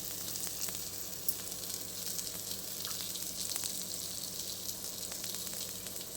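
Fish fries on a thick, heavy pan with a steady, close hiss of bubbling oil and a few brief crackles, no talking.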